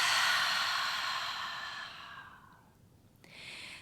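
A long, slow exhale out of the mouth during a yoga breathing practice, a close, soft airy breath that fades out, then a brief quieter breath begins.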